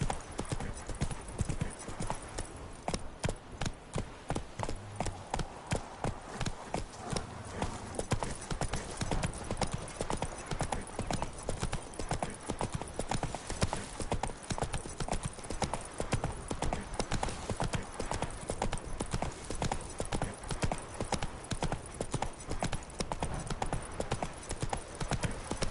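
Roach, the horse from The Witcher 3, gallops at a steady pace for a long stretch, hooves clip-clopping in a rapid, even rhythm up close with no talk over it.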